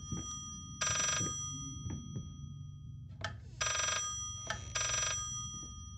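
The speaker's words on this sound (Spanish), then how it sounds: "Ese parece el teléfono." An old telephone rings inside the horror video game Layers of Fear, three long metallic bell bursts with pauses between them, heard over a low, steady ambient drone with faint clicks.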